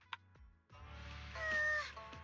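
A cat meows in a video game, a short faint call near the start, then game music and ambience fill the rest without any voices.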